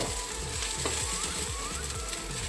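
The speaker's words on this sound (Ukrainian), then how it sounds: "Поки смажиться наша курка з цибулею" Chicken and onion sizzle and crackle steadily in a hot pan, with occasional scraping and stirring sounds close by.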